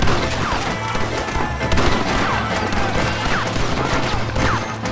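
Gunfire rings out in a Red Dead Redemption shootout, a dense fusillade of overlapping shots and cracks that holds steady and loud over a low rumbling bed, with shouting voices mixed in.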